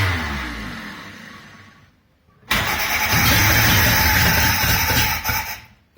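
A Ford GPW Jeep engine cranks over, then catches at about 2.5 seconds and runs loud and steady close by, with a busy, smoky-sounding rumble before easing down near the end.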